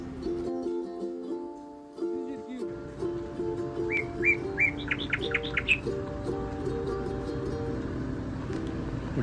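Birds chirping in a Coorg coffee estate: a quick series of bright, repeated chirps in the middle, heard over a steady outdoor background hum.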